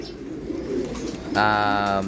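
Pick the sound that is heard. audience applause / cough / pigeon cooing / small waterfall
pigeon cooing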